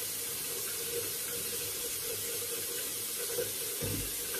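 Tap water pours steadily into a cup at a bathroom sink during a skincare and toothbrushing routine, a soft continuous hiss and trickle with a small splash near the end.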